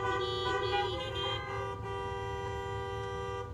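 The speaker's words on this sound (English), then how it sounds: "by the beeping of your horn" Car horns beep and toot in a parking lot outside a church service, sustained overlapping honks from several vehicles, moderately distant and steady throughout.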